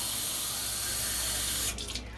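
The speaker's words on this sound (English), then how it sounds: "now I'm gonna fill this up with water." A tap runs in a steady, fairly close hiss as a can is filled with water, then cuts off near the end and leaves a brief splashy patter.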